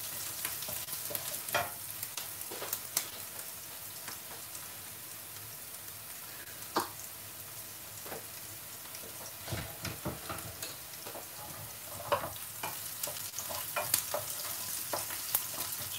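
Ingredients for a kalimirch black pepper curry fry in a pan with a steady, close sizzle, broken by repeated scraping stirs of a utensil, with no voices.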